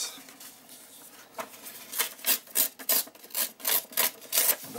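Paper strips torn one after another from a sheet during a craft process, giving a series of short, close, crisp ripping bursts that grow louder and more regular toward the end, with no talk.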